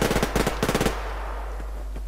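Rapid bursts of gunfire in the video game Survarium, a quick run of about a dozen sharp, loud shots in clusters over the first second, then a fading hum of ambience.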